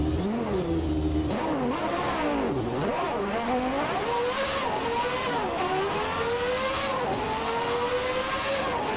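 A 1991 Formula One car engine in Assetto Corsa, loud and continuous, whining up and down through the revs with repeated rises and sharp drops as it shifts gears.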